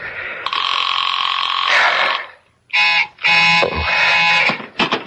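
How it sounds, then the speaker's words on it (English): Telephone ringing in a 1970s radio drama: two long electronic rings, the first about two seconds, a short gap, then a second longer burst and a brief third start, loud and close with no talk. "Will you answer the phone?"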